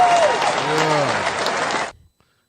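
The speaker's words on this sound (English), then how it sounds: "Give it. a round of applause." A quick burst of clapping for a rapper during a freestyle interview show, with a voice talking over it, runs for about two seconds before cutting off sharply into silence.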